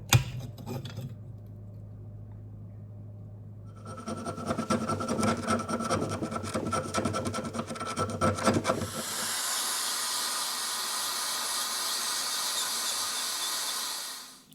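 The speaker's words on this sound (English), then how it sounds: "get this piece that's going to be my brass bolster and drill out the beginnings of the groove for the tang to go through" Power drill boring a groove into a brass knife bolster for the tang, a steady raspy whir for several seconds that shifts to a higher, smoother hiss partway through.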